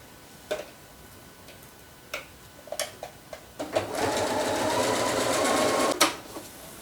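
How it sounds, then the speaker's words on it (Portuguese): A sewing machine fitted with a presser foot stitches a folded, pressed 3 cm fabric strip onto a Christmas border, a steady close whir for about two seconds, framed by scattered ticks and clicks before and a clunk at the end. "vou passar aqui também com um pé de máquina"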